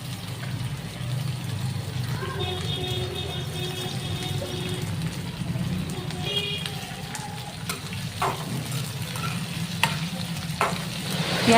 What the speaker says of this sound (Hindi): प्याज डालने के बाद में गैस की आंच को मैंने तेज़ कर दिया है और 2-3 मिनट के लिए तेज़ आंच पर ऐसे ही चलाते हुए प्याज को पकाऊंगी